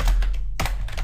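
A few quick computer keyboard keystrokes, close and fairly loud, with a short silent gap and then a burst of taps at the end.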